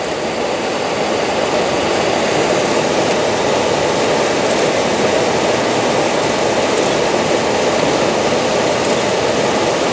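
An Amtrak passenger train rolls past on the rails on a cold evening in Pittsfield, a loud, continuous roar of wheels and wind that holds steady throughout with no voices.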